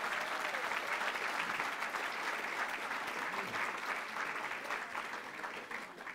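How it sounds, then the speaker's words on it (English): Steady, sustained applause from an audience at a county leadership graduation forum, dense clapping filling the room at an even level, tapering slightly at the end. "So how about a round of applause for these community builders here?"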